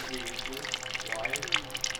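Power steering fluid drains out of a Toyota Tacoma during a steering rack replacement, a steady pouring trickle with faint drips, close by.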